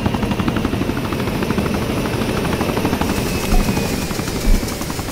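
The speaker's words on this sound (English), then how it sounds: "heli has touched the ground" A helicopter in the military game ARMA 3 sets down, its rotor beating as a steady loud thrum with a continuous whine over it, close and alone with no voices.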